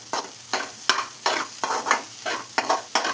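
Egg, onion and tomato stir-fried in a hot pan for egg rice make a close sizzle broken by rhythmic scraping spatula strokes, about two or three per second, loud and continuous with no talk.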